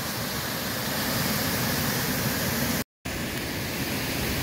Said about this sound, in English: this is the top of the falls, dropping down about 80 feet